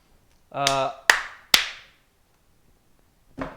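Three sharp hand claps ring out in quick succession after a short hum, followed by a brief sound near the end.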